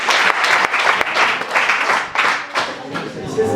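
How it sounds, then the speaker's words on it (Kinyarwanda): A crowd claps and applauds steadily at a farewell gathering for a Rwandan group, with dense, continuous clapping sustained throughout and a few louder individual claps standing out. "reka tubakomere amashyi menshi"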